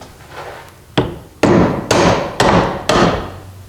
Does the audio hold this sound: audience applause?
no